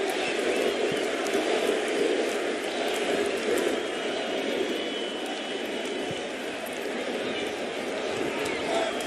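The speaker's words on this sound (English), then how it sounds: "Crowd roaring in anticipation" A baseball stadium crowd roars in anticipation as Aaron Judge, one home run shy of Babe Ruth's mark, steps up against the Pirates, a dense sustained roar with a broadcaster's voice faintly over it.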